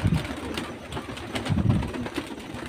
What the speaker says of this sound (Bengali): সব গিরিবাজ পায়রা, মুর্শিদাবাদের প্রিয় দেশি গিরিবাজ সব পায়রা